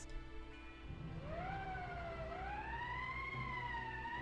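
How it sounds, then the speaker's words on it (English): An emergency siren in the video game Valkyria Chronicles rises into a loud, wavering wail after a second of low background hum and keeps sounding to the end. "That's the emergency siren."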